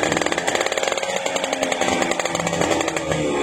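A Suzuki Max 100 motorcycle engine runs loud and close with a rapid, steady buzzing putter as the throttle is lightly opened, the tone rising and falling a little over a few seconds.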